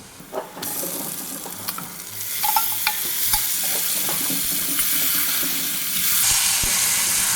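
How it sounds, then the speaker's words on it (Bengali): Marinated chicken goes into a pan of fried onions and green chilli for chicken posto, setting off a loud, steady sizzle with repeated stirring scrapes and clinks throughout, with no talking. "এবারে আমরা চিকেন ম্যারিনেট করে রাখা চিকেনটা দিয়ে দেবো"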